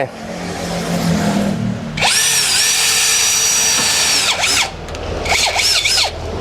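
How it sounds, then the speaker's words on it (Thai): A Mazaru cordless drill bores into wood, its motor whining loudly and steadily for about two seconds before slowing, followed by a few shorter bursts as the trigger is pulsed. "ตัวนี้ผมจะเจาะไม้แล้วก็ใส่ตัวสกรูเข้าไป"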